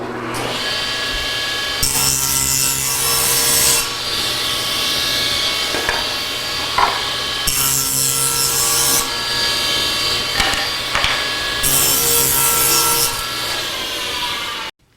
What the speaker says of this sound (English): I set the saw to 3 inches, and I'm going to cut the side pieces and the end pieces.